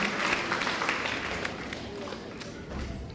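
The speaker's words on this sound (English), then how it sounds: "You deserve a round of applause." Graduation audience applauding program staff, a broad, continuous clapping from a crowd in a hall, fairly loud and sustained throughout.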